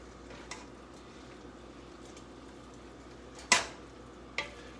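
Chili meat browning in a pan gives a low, steady sizzle, broken by a couple of sharp utensil clanks against the pan near the end.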